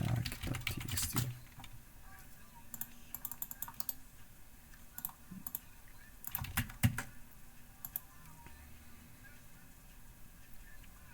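Keys clack on a computer keyboard in short, scattered bursts, with a dense run near the start and single taps later, over a quiet room hum.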